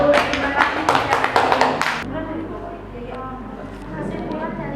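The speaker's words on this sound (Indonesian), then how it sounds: "beri tepuk tangan dulu" A class claps after a group presentation, a burst of brisk close applause lasting about two seconds before cutting off into quieter room sound with faint murmuring.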